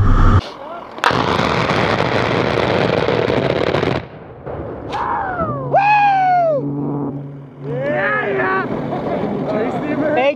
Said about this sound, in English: They're about to do a gun run.